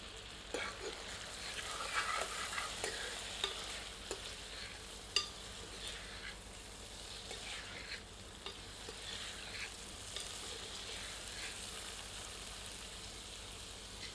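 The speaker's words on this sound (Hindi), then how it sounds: "बीच बीच में 1-2 बार करछी चलाते हैं ताकि मसाला जले नहीं" Chicken curry masala cooks in a pan while a ladle stirs it. Steady sizzling runs throughout, broken by scattered scraping strokes, and no one speaks.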